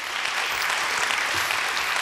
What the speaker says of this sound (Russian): аплодисменты нашей студии.